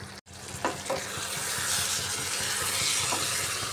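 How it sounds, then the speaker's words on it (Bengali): Ridge gourd for an egg curry sautés uncovered in a pan as its water cooks off, giving a steady close sizzle broken by a few scraping clacks of stirring. "ঢাকা না দিয়ে এইভাবে একটু সময় কষিয়ে ঝিঙ্গার জলটা একটু শুকিয়ে নিচ্ছি।"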